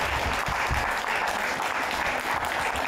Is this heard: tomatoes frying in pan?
no